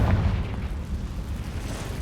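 A Confringo blasting spell explodes in Hogwarts Legacy, heard as a deep, rumbling boom that fades into a sustained low roar, dense and heavy throughout.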